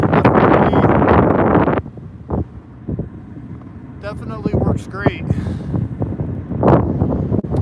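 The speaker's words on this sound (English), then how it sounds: "I know a lot of wind" Heavy wind buffeting the microphone inside a moving four-wheel-drive vehicle, a loud rushing roar at first that drops and then returns in gusts under a man's speech.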